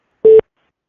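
A single short electronic beep from a phone voicemail system, a steady pure tone lasting under a fifth of a second, loud and alone against silence.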